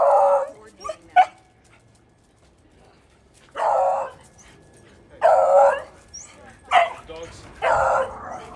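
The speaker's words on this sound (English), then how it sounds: "Dogs." Dogs barking and yipping in short bursts, a few separated loud barks scattered over a quiet background, fairly close.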